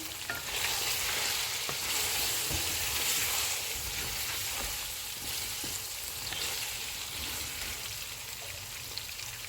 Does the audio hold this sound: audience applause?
no